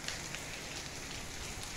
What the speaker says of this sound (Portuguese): as chuvas aqui já estão com aproximadamente 5 a 10 minutos de chuva